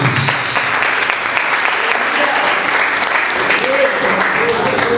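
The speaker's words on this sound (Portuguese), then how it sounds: "Aplaudindo o Senhor Jesus." Church congregation applauding, a loud, dense wall of clapping close by, with voices mixed in beneath the steady patter.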